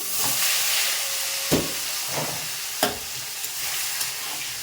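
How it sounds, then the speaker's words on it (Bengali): Eggplant pieces frying in oil in a pan with nigella seeds: a steady close sizzle broken by a few sharp clinks and scrapes of stirring, with no talk. "বেগুনটা একটু ভেজে নিয়ে যাচ্ছে।"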